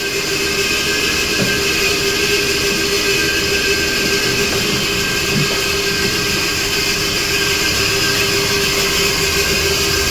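A Storm Vulcan block cutter running steadily while its big wheel spins, a loud, continuous mechanical whine and rumble with a high steady tone, no voices.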